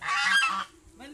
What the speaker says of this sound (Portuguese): É ganso.